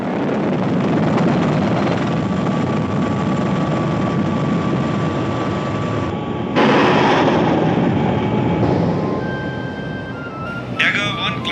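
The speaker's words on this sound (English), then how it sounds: "the Mi-25 and its upgraded variant, the Mi-35, are extremely effective in support of ground troops" An Mi-25/Mi-35 attack helicopter drones with a dense, rushing rotor and turbine roar. It holds steady, then shifts abruptly partway through with a louder surge and faint whining tones near the end.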